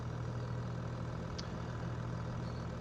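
A tractor engine idles steadily in a farming video game set on a harvest map, a low continuous rumble with no variation and no talking.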